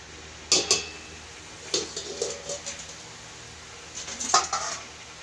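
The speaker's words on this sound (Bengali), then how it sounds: "এবার আমি ঢাকা দিয়ে দেবো, ঝোলটা ফুটে উঠবে।" A metal lid set onto a cooking pot of fish curry, heard as a few sharp clinks and clattering knocks in separate bursts, close and fairly loud against a quiet kitchen.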